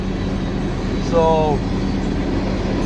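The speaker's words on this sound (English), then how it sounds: "coal trains tend to be about a mile long at least on average, and this one's loaded" A loaded coal train, about a mile long, rumbles steadily past on the tracks as a continuous low roar, with a brief squealing tone partway through and a voice speaking over it.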